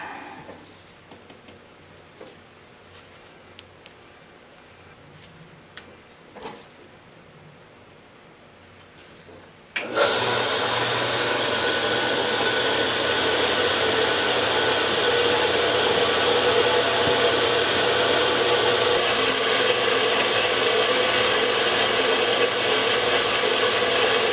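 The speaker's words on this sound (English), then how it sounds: "It's a pretty big cut for this saw, 3 inches of stainless steel." A Do-All saw bites into a 3-inch piece of stainless steel, starting with quiet clicks and knocks before the blade engages and a loud, steady grinding whine takes over and continues without a break.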